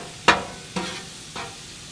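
Steak sizzles in a pan beside peppers, onions and mushrooms as three scraping strokes of a utensil sweep through, the first loudest and each fading into a soft hiss.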